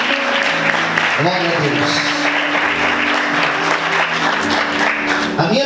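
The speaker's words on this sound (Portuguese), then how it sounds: "Vamos aplaudir Jesus bem forte, com bastante alegria" Church congregation claps loudly and joyfully during a service, dense sustained applause under someone speaking and voices calling out over it.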